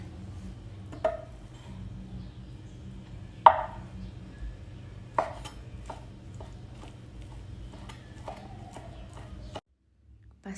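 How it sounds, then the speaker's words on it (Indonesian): Free-range chicken meat chopped finely for baby porridge: sparse, irregular knife chops on a board, a few sharper louder strikes, over a low steady background hum that cuts out near the end. "Kita cincang-cincang daging ayam kampungnya sampai halus ya Mam"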